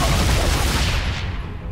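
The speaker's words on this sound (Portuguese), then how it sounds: "o outro cara atirou nele com a submetralhadora pelas costas" Submachine gun fire in Tomb Raider Anniversary, a dense, loud continuous burst that holds steady for under two seconds before tailing off slightly.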